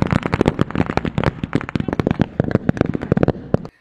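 Blank gunshots crack in a rapid, chaotic volley during a D-Day World War II reenactment battle, many sharp overlapping reports from rifles and automatic weapons firing nearby without pause.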